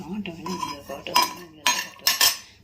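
Walnuts roasting in a pan over a slow flame, heard as a run of scraping and metallic clinks from a utensil stirring against the pan, with several louder bursts of clatter near the end.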